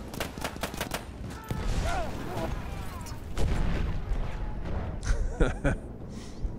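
Rapid bursts of gunfire from a fast-shooting gun in the video game Battlefield 1, with sharp repeated shots in clusters, heavier booms and rumbling game action between them.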